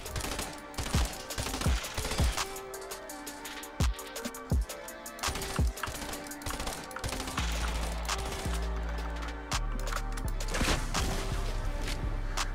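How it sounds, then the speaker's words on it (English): Suppressed SMG fire in Fortnite: rapid bursts of muffled shots spread over the whole stretch, mixed with other gunfire and game effects against a steady musical backdrop, with no talking. "We have it on the suppressed SMG here."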